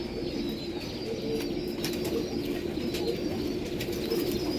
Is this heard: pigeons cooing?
yes